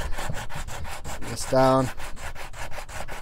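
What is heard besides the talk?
sanding banjo fretboard with 120 grit sandpaper on wood block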